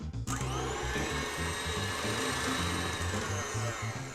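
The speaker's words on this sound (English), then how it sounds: "We're gonna add the molasses to the bowl, and then we're gonna cream it at a high speed for an additional 1 to 2 minutes." An electric stand mixer runs steadily at high speed, creaming molasses into ginger snap cookie dough with a loud, continuous whirring hum and a low rhythmic churning, close by with no talking.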